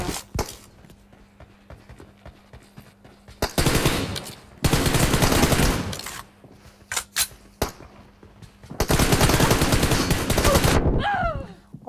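Gunfire in the mobile game PUBG Mobile, with long loud bursts of automatic fire and scattered single shots alternating with quieter gaps of game ambience.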